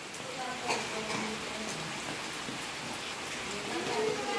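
Steady rain falling in a Konkan village, a dense even hiss of drops close by, with a faint voice now and then beneath it.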